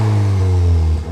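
VW Golf R Mk8 fitted with a Milltek GPF-back exhaust and panel filter, revving hard in a brief loud close burst, the engine note climbing and then cut off.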